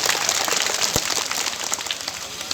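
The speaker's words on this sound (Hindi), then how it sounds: "बात अच्छी लगी है तो जोरदार ताली बजा के सम्मान करना चाहिए" Audience applause at a Hindu religious discourse in a village katha gathering, a dense, even patter of many clapping hands filling the space, steady and moderately loud with no voices.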